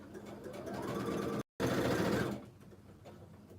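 Sewing machine stitching fabric triangles together for an economy quilt block, a close, steady motor whir in one continuous run broken by a brief pause before resuming and fading.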